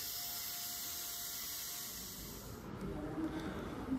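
Fiber spraying during container lamination gives a continuous hissing spray with a steady high whine, then shifts partway through to a rougher, louder rushing noise with faint rubbing and mechanical undertones.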